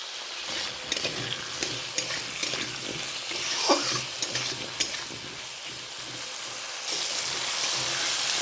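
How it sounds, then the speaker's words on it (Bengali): Potatoes and tomato sizzle steadily in a hot pan, with a spoon scraping and stirring in repeated short clacks; the hiss grows louder and denser near the end. "আলু টমেটোটা দিয়ে হালকা করে ভেজে নেব"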